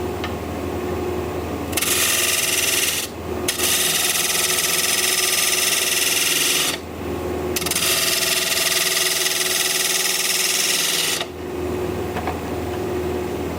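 A wood lathe spins an end grain bowl blank at about 1,200 RPM, steady motor hum broken by loud broadband bursts of shaping cuts in three long passes, each stopping abruptly into quieter running.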